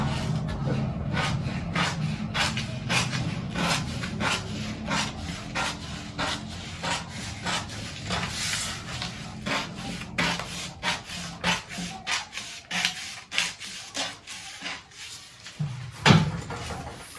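Repeated scraping, rubbing strokes of a blade or scissors cutting through a paper sewing pattern for a cowl neckline and A-line skirt, close and steady in rhythm with a sharper knock near the end.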